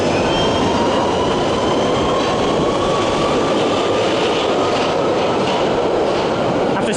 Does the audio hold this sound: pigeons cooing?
no